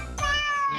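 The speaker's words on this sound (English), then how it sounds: "all of the cats here are up for adoption, as is Ted." A single cat meows once in a cat cafe where the cats are up for adoption, a short, clear, close mew that rises quickly and then trails off, heard alone without any talk.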